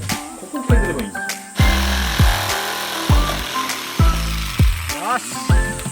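A power tool shaving down wood while converting a storage shed into a DIY space, in repeated whirring bursts that spin up and wind down in a steady rhythm, loud and close.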